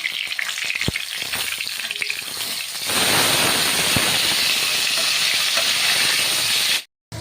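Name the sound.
rohu fish frying in mustard oil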